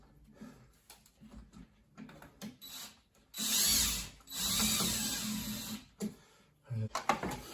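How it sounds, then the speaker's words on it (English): Cordless power drill driving drywall screws into an electrical outlet box, two loud whirring bursts of a few seconds each, with handling clicks and clatter between them. "just take 2 drywall screws and screw it into the box"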